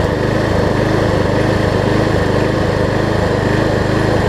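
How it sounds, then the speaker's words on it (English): A Craftsman self-propelled lawn mower runs steadily on its new carburetor, its small engine putting out a loud, close, even drone with a rapid putter that holds constant throughout. "overall the mower is pretty quiet"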